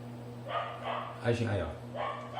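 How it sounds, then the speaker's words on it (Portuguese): Next door, a neighbour's dog barks in a few muffled bursts at mid distance. A steady low hum from a home room sits under the barks. "Hoje temos a participação novamente do cachorro do vizinho, como dá para ouvir aí"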